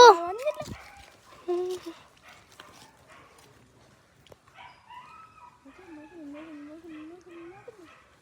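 A dog yelps sharply at first, then whimpers and whines in drawn-out, wavering cries, fairly close and moderately loud.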